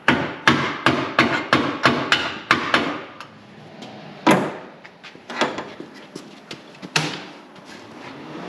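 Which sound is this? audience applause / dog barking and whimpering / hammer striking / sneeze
hammer striking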